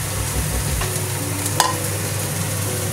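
Onion and tomato drop into a hot frying pan for a Chinese-style fish head dish, setting off a steady close sizzle with a faint stir and a small clatter partway through.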